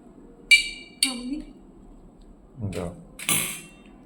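A metal spoon clinks against dishes in a home kitchen while puffed-rice masala is mixed. Two sharp clinks come close together, then a duller clatter and a final ringing clink, with quiet room tone between.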